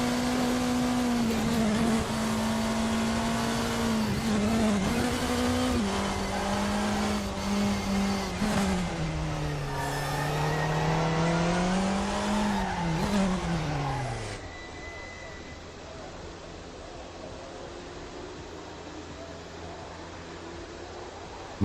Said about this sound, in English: I hear tires breaking traction when I'm turning